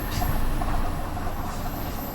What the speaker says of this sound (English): I can hear another train perhaps on another platform